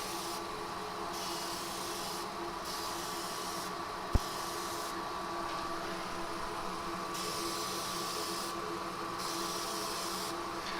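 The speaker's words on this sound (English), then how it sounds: "then I'm going to move the airbrush kind of that way and blend it out, fade it out" An airbrush sprays finish onto an end-grain wooden bowl turned from monkey puzzle wood, a steady hiss that cuts on and off in bursts of a second or two, with one sharp tap in the middle.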